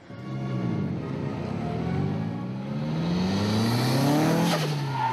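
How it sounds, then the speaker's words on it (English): Drifting car at a drift and drag racing event, its engine revving loud and steady while the tires squeal in long rising and falling screeches throughout, with no talk. "It might have to be set up to a certain point for the car to be able to drift."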